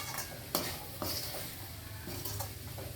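Paneer being stirred in hot oil in a pan, a soft steady sizzle broken by a few sharp scrapes and clinks of a spoon against the pan, close and fairly quiet.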